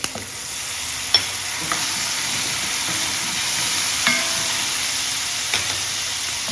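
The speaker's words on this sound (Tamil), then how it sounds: "நல்லா மிக்ஸ் பண்ணி விட்டுருணும்." A lemon sevai (rice vermicelli) mixture with salt and asafoetida is stirred in a pan on a switched-off stove. A steady soft hiss runs underneath, broken by occasional sharp scrapes and taps of the spoon against the pan.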